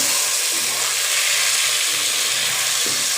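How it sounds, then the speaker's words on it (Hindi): Chicken pieces fry in a pan for nihari, giving a loud, steady sizzle and crackle that fills the whole stretch without any talk. "उस वक्त तक हमें इसे फ्राई करेंगे जब तक ये सही अपना कलर इसका वाइट हो जाए।"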